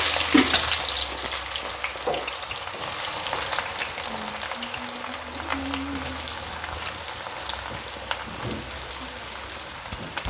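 Chopped onions hit hot oil for bhindi do pyaza, a loud close frying hiss full of crackles and pops that settles into steady sizzling, with faint stirring knocks.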